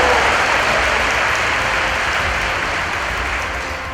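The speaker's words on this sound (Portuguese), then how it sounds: "salva de palmas para a juventude linda que Jesus te deu" A church congregation claps for the young people at a worship service, loud, dense continuous applause from many hands that holds steady and then tapers slightly toward the end.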